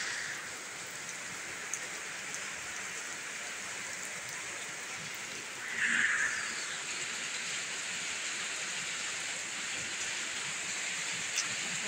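Heavy rain pours in a steady, dense hiss throughout, with one brief louder patch midway.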